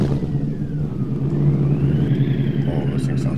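Truck engine in the off-road game SpinTires MudRunner rumbling steadily with a rising rev toward the end, continuous and fairly loud, with some speech-like content mixed in.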